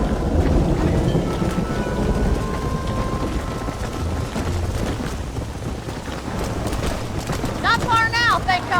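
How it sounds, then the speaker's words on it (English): Heavy thunderstorm rain in the video game Red Dead Redemption, a steady downpour hiss with rumbling under it, joined near the end by a brief whistling tonal sound. "I can't see anything in this rain."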